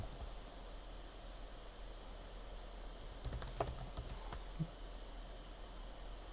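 Quiet, irregular taps of a computer keyboard during coding work, sparse keystrokes clustering in short bursts over a steady background hiss, no talking.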